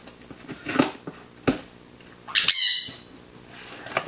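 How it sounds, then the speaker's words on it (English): A pet bird lets out a few sharp, loud squawks with shrill overtones among rustling, crinkling cardboard and packing material during a box unboxing indoors. "my bird's excited too"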